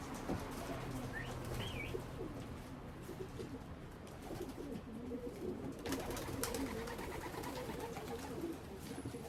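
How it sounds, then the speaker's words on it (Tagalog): Outdoor loft ambience as a racing pigeon, the first bird home after a race, is heard with soft cooing and faint chirps over a steady, fairly quiet background of rustling and distant noise, with no voices. "Ito nga pala yung unang ibon natin dumating, yung kapatid ni Big Boy."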